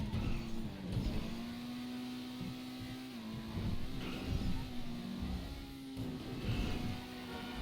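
A Krieger car driving in GTA, its engine holding a steady, droning hum with slight pitch shifts as it shifts and revs, loud and close throughout.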